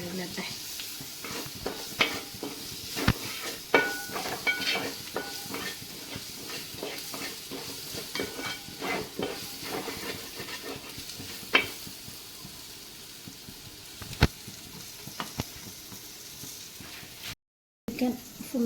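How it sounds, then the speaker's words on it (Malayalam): Chicken and masala sizzle and fry steadily in a little hot oil in a pan, with scattered stirring scrapes and clinks throughout, fairly close and even in level. "നന്നായിട്ടൊന്ന് വഴലട്ടെ"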